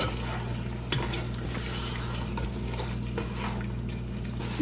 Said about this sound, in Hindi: अब इसकी थोड़ी सी करेंगे भुनाई और फिर अपनी अरबी इसमें डाल देंगे